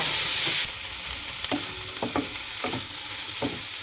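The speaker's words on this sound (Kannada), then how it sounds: "ಚೆನ್ನಾಗಿ ಉಳ್ಳಾಗಡ್ಡೆ ಜೊತೆ ಕಲಿಸ್ಬೇಕು ಟೊಮೊಟೊನ" Onion and tomato fry in a pan with a loud, steady sizzle, punctuated by several close spoon scrapes and knocks as the mixture is stirred.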